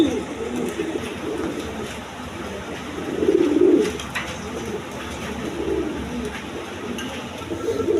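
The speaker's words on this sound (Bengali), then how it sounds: "দর্শকবৃন্দ এখানে এক পেয়ার ইন্ডিয়ান বোম্বাই কবুতর আছে, রেড কালার" A pair of red Indian Bombay pigeons coos softly at close range, low repeated calls swelling in short bursts over a steady background hum at a pigeon farm.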